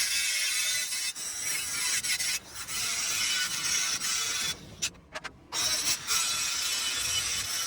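A grinder puts a bevel on a steel piece for a log trailer bolster, giving a loud, continuous harsh grinding hiss that breaks off briefly a few times near the end before resuming.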